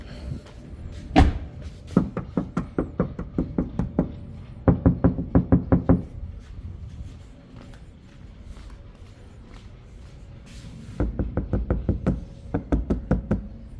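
Repeated knuckle knocks on a soundproofed car door panel, several quick bursts of dull, solid taps separated by short pauses, close and clear with no talking.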